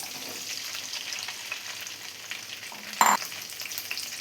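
Okra fries in two tablespoons of coconut oil in a pan, a steady close sizzle that stays even throughout, with one short sharp clink near the end and no speech.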